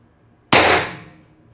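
A Pistelle X-68 air gun fired unloaded gives one sharp, close report that starts abruptly and fades over about a second, with no voices.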